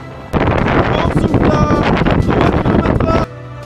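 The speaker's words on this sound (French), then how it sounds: "Dans la désertique Pampa, le vent nous joue des tours." Strong wind buffets the microphone in a loud, roaring gust on a bicycle ride through the desert Pampa, starting abruptly and cutting off after about three seconds.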